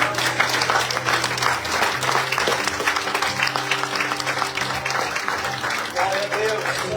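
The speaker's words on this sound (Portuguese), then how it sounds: "Você vai levantar as suas mãos e vai aplaudir agora." Congregation applauding during a Portuguese-language communion service, sustained lively clapping from a large crowd with low sustained music tones underneath and a voice faintly present.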